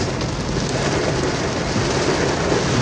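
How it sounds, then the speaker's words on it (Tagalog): Heavy downpour during the first rain of the season in city traffic, a dense, steady roar of rain pounding surfaces close by, unbroken throughout. "Lakas ng ulan."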